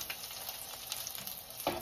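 Eggplant frying in cooking oil that may not be hot enough, giving a steady low sizzle and crackle throughout, fairly faint, with a brief louder stir or spatter near the end.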